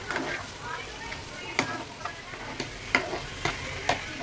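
Spices being stirred into frying eggplant with a steel spoon, a low sizzle under repeated clinks and scrapes against the pan, close and fairly quiet.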